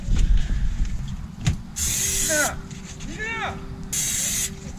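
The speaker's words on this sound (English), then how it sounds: "Just spray." Two short bursts of olive oil spray hissing from a can onto deer meat, close by, with a low background hum and faint talk in between.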